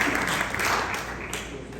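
Applause from the audience at an entrepreneurs' meeting, a short burst of many hands clapping together, dense and fairly loud, tapering slightly toward the end.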